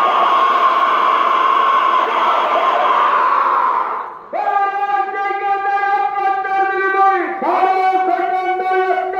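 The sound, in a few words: large crowd at a village fair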